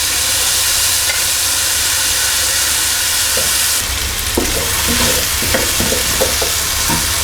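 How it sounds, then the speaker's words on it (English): Potatoes fry in a pan with a steady loud sizzle and hiss, and sharper clinks and scrapes of stirring join in partway through. "I'm just going to be frying these off for about 4 or 5 minutes"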